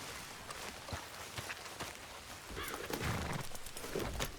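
Rhythmic clip-clop of horse hooves on the ground in the video game Red Dead Redemption 2, steady and moderately close, over a bed of ambient outdoor noise.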